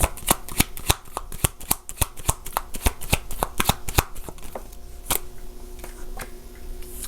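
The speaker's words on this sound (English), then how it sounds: "So let's grab some cards for number 4 here." Tarot cards shuffled by hand in a quick, steady run of crisp riffling snaps, close and alone, slowing to a few scattered flicks near the end.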